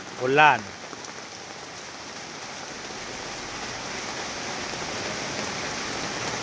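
Steady rain falling and pattering on surfaces, a constant wash of noise, with a brief voice at the start.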